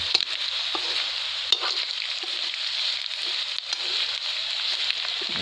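Crickets stir-fried in a pan, a steady bright sizzle with occasional scraping stirs and light knocks, close up and continuous, no talking.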